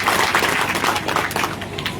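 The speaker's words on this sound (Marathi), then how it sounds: "या मंडळीसाठी एकदा जोरदार टाळ्या वाजवा" Audience at a Dhangar reservation rally in Jalna claps loudly and steadily for a row of honoured village heads, a dense wash of applause filling the full two seconds with no break.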